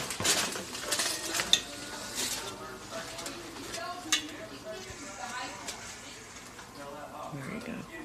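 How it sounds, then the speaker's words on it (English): Kitchen clatter of pans and utensils with a soft sizzle of chruściki pastry deep frying in a pan in the background, while people talk nearby throughout. "And here's Daisy deep frying them."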